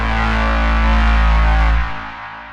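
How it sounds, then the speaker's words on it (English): A loud, epic cinematic braam layered with sustained chords, heavily distorted and effected, droning for nearly two seconds before fading and thinning out. "And I'm layering it with this pretty epic sounding Braams sound."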